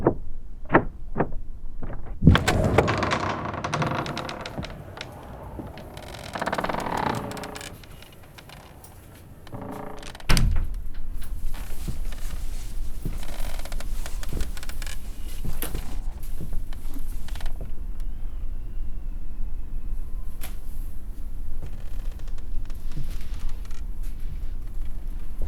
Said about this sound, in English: Watch the door, she's a little sticky.